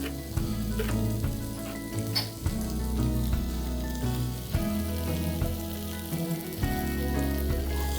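Ivy gourd and cashew upkari with coconut and salt sizzles steadily in a pan while a spoon stirs and scrapes it in repeated strokes; close, dense frying sound with no voices.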